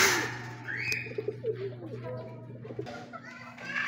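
Pigeons coo softly nearby over a steady low hum, with faint children's voices in the background.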